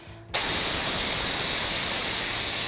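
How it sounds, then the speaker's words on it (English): A Silit pressure cooker's quick release lets out a sudden loud, continuous hiss of steam that starts abruptly and stays strong and steady to the end. "I turn the energy source off, move the steam away from you, and it will be a loud shh noise"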